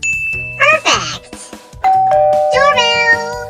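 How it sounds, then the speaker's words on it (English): A doorbell rings in a cartoon comic dub, a clear ding-dong chime mixed with voices and effects, loud and close. "Doorbell!"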